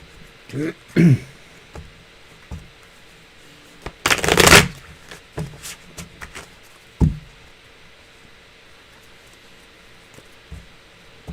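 Tarot cards being shuffled by hand at a reading, with a loud, dense riffle burst in the middle and quieter card taps and handling before and after.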